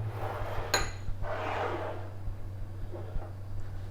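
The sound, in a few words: stirring bell peppers, celery and onion in a pan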